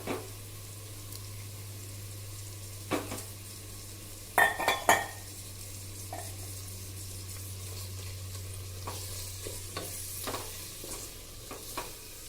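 Mutton with masala, tomato and onion frying in oil in a pan, a low steady sizzle broken by a few bursts of stirring and spoon scrapes against the vessel, with a constant background hum.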